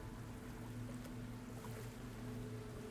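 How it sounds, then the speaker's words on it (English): Gentle ocean waves lap steadily in the background as ambience for a tabletop roleplaying session, a soft continuous wash with a low hum running underneath and no voices. "Outside the lapping of the waves is the only real noise that's there."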